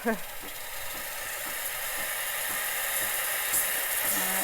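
Steady broadband hiss of an espresso machine steam wand, constant and fairly loud, rising slightly, with a brief voice at the start.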